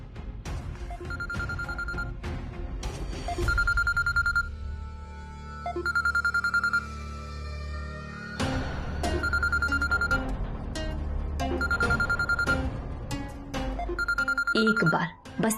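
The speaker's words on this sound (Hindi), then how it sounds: "ये आवाज तो रज्जू चाची की मोबाइल के बजने की है, पर इतनी रात को किसका फोन आ सकता है?" A mobile phone rings repeatedly in bursts of a bright electronic tone, recurring over and over, with voices and background noise mixed in between rings.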